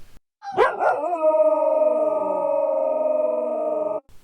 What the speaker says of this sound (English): So here's another howl.